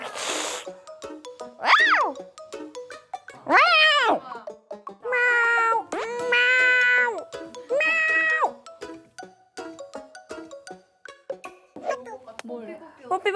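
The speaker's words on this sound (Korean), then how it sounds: "고양이 울음소리 들려달래." A cat meows repeatedly, several long drawn-out cries in a row with short pauses between them, close and fairly loud.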